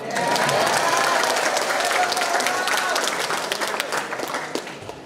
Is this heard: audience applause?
yes